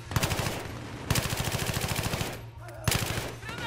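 Battlefield 3 gunfire: sustained rapid automatic bursts rattle loudly in quick succession, with a brief lull before the firing resumes.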